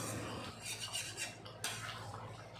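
Spoon stirring garam masala powder into a chicken curry in a metal pot, scraping and clinking in uneven strokes, close and fairly quiet, with a brief pause midway.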